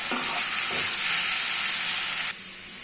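Potatoes and onions fry in a pan with a loud, steady, hissing sizzle that drops abruptly near the end, close up and with no talk.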